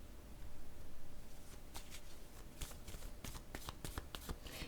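Cards being drawn from a tarot or oracle deck, a soft run of papery flicks and snaps that grows sharper and quicker toward the end, close and fairly quiet, with no talking.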